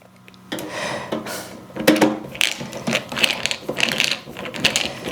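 Screwdriver working screws loose from a VHS player, a run of close, irregular metallic clicks, scrapes and small ratcheting rattles over several seconds with no one speaking.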